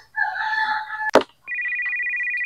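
A cellphone rings with an incoming call, a close, loud, steady electronic tone beginning after a brief melodic chime and a sharp knock.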